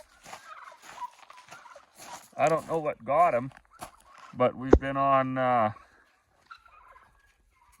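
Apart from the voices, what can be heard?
turkeys gobbling on a farm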